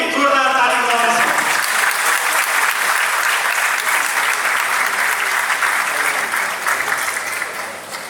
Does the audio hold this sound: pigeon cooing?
no